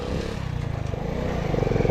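Delta 50cc moped engine running while being ridden, a close, pulsing low putter with a throbbing rhythm that grows slightly louder, plus some rattling clatter.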